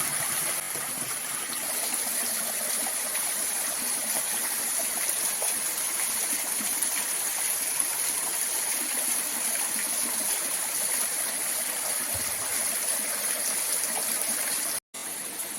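Steady broadband rush of falling water at the main waterfall on a forested mountain cliff, constant and fairly loud throughout, cutting out for an instant near the end.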